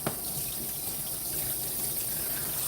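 Steady running water while shampoo is rinsed from a dog during grooming, a continuous close hiss and splash with one brief louder spurt at the start, no voices.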